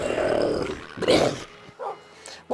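Minecraft dogs bark in short, sharp bursts: a longer noisy stretch, then a loud bark, followed by a couple of quieter yips near the end, in a video game.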